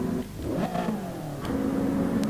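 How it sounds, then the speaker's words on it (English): Racing cars driving around the track in an eRacing video game, heard as close engine revving with rising and falling pitch as cars accelerate past, steady and loud without talk. "Make sure you guys can actually hear the cars as they're driving around the track."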